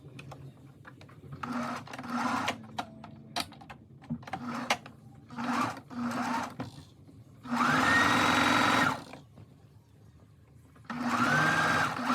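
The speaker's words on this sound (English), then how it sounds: "And then I'm going to go over to my sewing machine." A sewing machine runs in short bursts of rapid stitching, stopping and starting, with two longer louder runs and small clicks and handling noises between.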